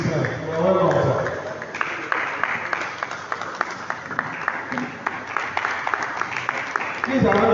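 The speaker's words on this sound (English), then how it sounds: "Please, another applause." At a medical workshop's formal closing event, an audience gives a round of applause, a steady patter of claps with sharp individual hits, and voices speak over the start and end.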